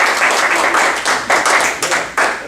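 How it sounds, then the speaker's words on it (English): A small club audience applauds a speaker, with loud, close claps that swell into a steady patter and come in bursts for a couple of seconds. "I want to give a big round of applause to Scott"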